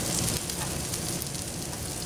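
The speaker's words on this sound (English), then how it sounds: "Little piece of fat even on fire on that steak." Steak fat burning and sizzling over a fire while smoking sous vide cowboy steaks, a steady close crackling hiss that fills the short moment without pause.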